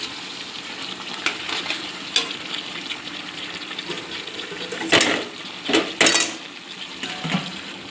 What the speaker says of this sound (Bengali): আজকে লাল লাল চিকেন কষা হচ্ছে